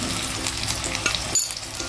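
Oil sizzling steadily as stuffed bangda mackerel fries in a pan, a constant close crackle with small spits and pops and no voices.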